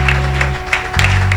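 A church congregation applauds and cheers in a continuous dense wash of clapping, with a steady low hum of music or organ underneath throughout.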